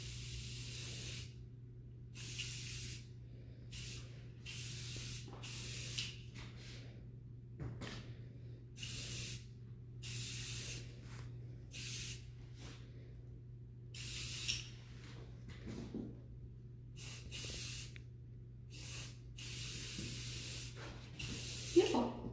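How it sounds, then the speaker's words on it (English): Medium hold hairspray is sprayed over braided hair in a string of short hissing bursts, each a second or two long with brief pauses between, close and clear above a steady low hum. "I will finish with a little bit of our medium hold hairspray."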